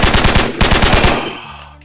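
Machine gun fire as a sound effect: rapid loud bursts of gunshots in two quick volleys, followed by a short trailing echo that fades out.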